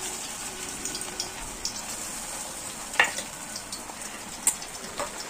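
Sabudana frying slowly in oil over low heat gives a steady soft hiss and crackle, with a few sharper pops and light stirring clicks, close and alone.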